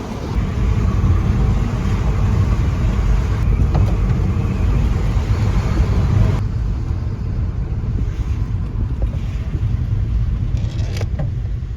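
A van drives along a road near the Croatian border, giving a steady, loud cabin rumble of engine and tyres with wind noise, continuous throughout with no talking.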